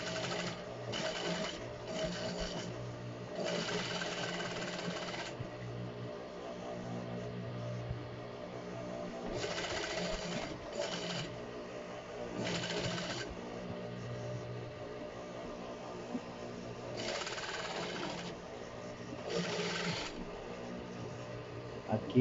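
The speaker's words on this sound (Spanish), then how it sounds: "De una vez pasamos la costura encima del pasador." Industrial sewing machine stitching a seam over a belt loop on a jeans waistband: a steady, close mechanical whirr that swells into louder runs of stitching several times, with brief slower stretches between.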